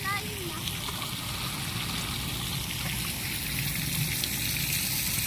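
Water pours steadily from a shower at a clear-water swimming spot, a constant near splashing hiss with faint voices and a brief whistle-like chirp early on.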